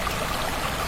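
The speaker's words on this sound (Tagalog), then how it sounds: "Dito tayo sa gilid ng ilog." A river streaming past rice fields in the countryside gives off a steady, close, broadband rush of flowing water, alone and unbroken for under a second.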